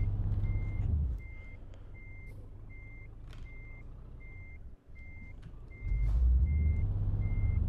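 A truck in a truck driving video game sounds its reversing alarm, a steady series of evenly spaced beeps over a low engine rumble that swells at the start and end.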